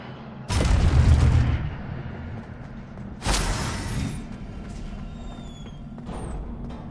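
Two loud whooshing fire bursts from the Incendio spell in Hogwarts Legacy, each a roaring boom that swells and decays, with faint game ambience between and afterward.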